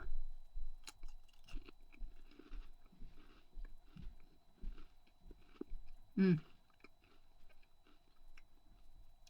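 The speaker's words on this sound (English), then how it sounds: "So it has a nice crunch, but it dissolves fairly" Crunchy corn puff snack from Germany being chewed close to the mouth, a run of soft crunches and mouth sounds with one louder bite near the end.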